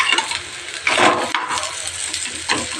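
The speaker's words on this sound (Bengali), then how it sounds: "দেখো 3টে একসাথে ভাজছি। দেখো এরকম করে উল্টে পাল্টিয়ে ভাজছি।" Three spicy batter rotis fried together in a hot pan until red and crisp, turned over as they cook; a close, noisy frying hiss with pan and utensil clatter in irregular bursts.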